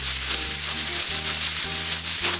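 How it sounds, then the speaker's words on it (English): Cucumbers being rubbed with salt inside a plastic bag give a steady, close, continuous scrubbing rustle with slight rhythmic surges, set against quiet background music and no talking. "Place the cucumbers in a plastic bag, add salt and rub well."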